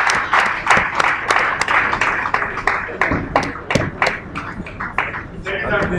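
Audience applause following a presentation at a live gathering, a dense wash of many hands clapping steadily for several seconds, loud and close, with a few sharper individual claps standing out.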